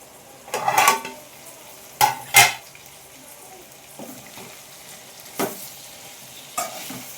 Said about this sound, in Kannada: ಇವಾಗ 1-2 ನಿಮಿಷ ಎಣ್ಣೆಲಿ ಫ್ರೈ ಆಗಲಿ.